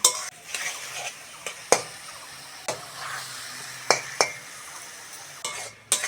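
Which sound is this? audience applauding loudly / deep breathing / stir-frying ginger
stir-frying ginger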